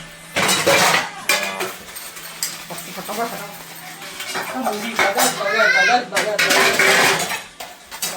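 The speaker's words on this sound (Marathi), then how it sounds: "आणि भांडी काय, एक वर्कआउट आहे भांडी करणं" Pots, plates and utensils clink and clatter while dishes are scrubbed and washed at home, a close, busy run of metallic knocks and scraping, with someone talking over parts of it.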